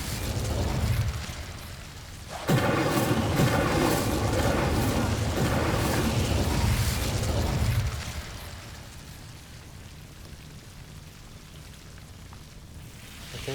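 An Incendio fire spell cast in Hogwarts Legacy erupts in a loud burst of roaring, crackling flame that lasts several seconds, then fades into a quieter rumbling background.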